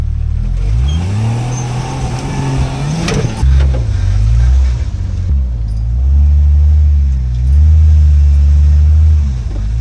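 An off-road vehicle on tires aired down to about 3 to 4 PSI revs and accelerates hard over a ledge, its engine loud and close, surging, dipping briefly, then climbing again under strain.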